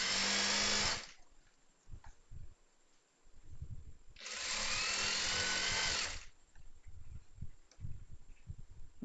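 Sewing machine stitching a churidar in two loud, fast bursts of about a second and two seconds, separated by quieter handling and fabric sounds.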